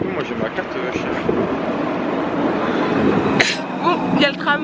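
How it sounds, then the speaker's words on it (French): A tram passes close by in a French city, giving a steady, broad rumble of rail noise with occasional high squeals, while people chat over it. "Bon, il y a le tram."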